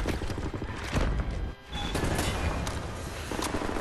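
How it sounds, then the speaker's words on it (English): Suppressing gunfire in the video game Wolfenstein: The New Order: steady, dense automatic fire rattling without pause, moderately loud, with one brief lull midway before the barrage resumes. "Right, lads, ready to lay down suppressor fire?"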